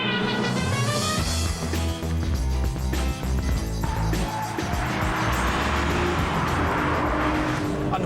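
A Renault Clio V6 driving on a racetrack, its engine loud and close, revving up and down with a brief tire squeal before settling into a sustained roar.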